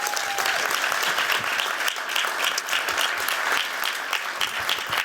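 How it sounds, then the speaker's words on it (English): An audience at a housing innovation summit webinar claps in a sustained round of applause, many hands patting steadily and fairly close for several seconds without a break. "I want to give one more round of applause for the Hacker House group"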